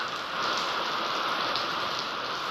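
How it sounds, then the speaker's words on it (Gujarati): Steady, dense hiss of heavy rain pouring down, constant and fairly loud throughout with no voices. "આ વરસાદ અત્યારે શરૂ થઈ ગયો"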